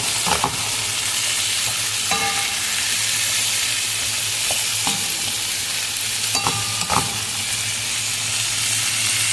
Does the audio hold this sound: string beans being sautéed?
yes